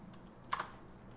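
Typing on a computer keyboard during a software install at a desk, a faint patter of keys with one brief, louder cluster of clicks near the middle, heard alone without speech.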